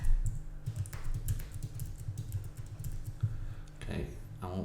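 Typing on a computer keyboard while HTML code is edited, a steady run of light, close key clicks with a short pause and a faint voice near the end.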